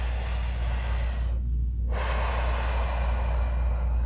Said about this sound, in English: And while we're doing this, we're still breathing.